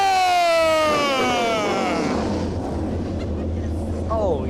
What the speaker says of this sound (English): drivers, start your engine!